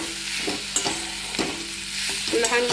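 Boiled potato pieces frying in a pan for a dry potato bhaji, scraped and stirred with a spoon in several distinct strokes over a constant close sizzle, with no talking.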